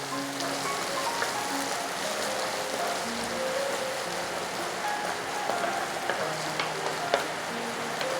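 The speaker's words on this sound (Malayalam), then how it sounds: "അതിട്ടിട്ട് നമുക്ക് നല്ലോണം ഒന്ന് സോട്ട് ചെയ്ത് കൊടുക്കാം." Crushed ginger and garlic sauté in a pan for chicken thoran, a continuous close sizzle with scattered crackles and light stirring scrapes, no talking.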